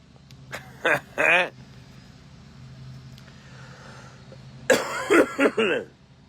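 A couple of close coughs, a pause with low background hum, then a harsher burst of several coughs.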